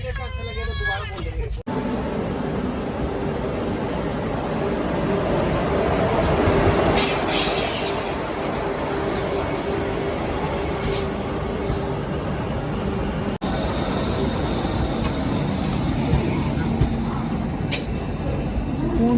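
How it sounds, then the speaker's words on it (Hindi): The Bihar Sampark Kranti Express arrives at Unnao Junction with a continuous rolling rumble and rattle of wheels, under station crowd babble and people talking nearby. "उन्नाव जंक्शन पहुंच गई है ट्रेन।"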